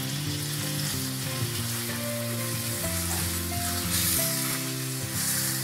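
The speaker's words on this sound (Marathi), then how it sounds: "आता हे चांगले फ्राय होऊ दे।" Mackerel fish frying in a pan, a constant dense sizzle with crackling oil, close and steady throughout.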